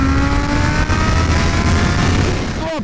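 A Kawasaki ZH2 motorcycle of about 200 horsepower accelerates hard, its engine roaring loud and steady as it climbs through a gear, then drops off with a quick shift at the end.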